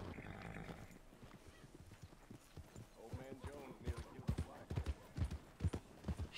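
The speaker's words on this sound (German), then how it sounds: "Wir reiten mal nach Hause." Hoofbeats of a horse being ridden in the video game Red Dead Redemption 2, a steady clip-clop that grows louder and more pronounced toward the end, with a brief whinny near the start and someone talking over it.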